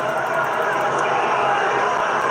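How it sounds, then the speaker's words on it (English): Stadium crowd at an AFL football match between Carlton and GWS Giants at Marvel Stadium, a steady restless murmur and rumble of many voices filling the air, continuous and moderately loud with no single standout shout. "The crowd are getting a bit antsy. You can hear it in the stadium."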